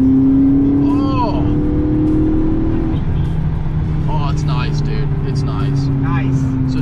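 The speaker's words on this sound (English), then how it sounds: "We want to hear this exhaust real quick for the video" A supercar's exhaust drones with a steady throaty tone that drops in pitch partway through, while people talk and call out over it.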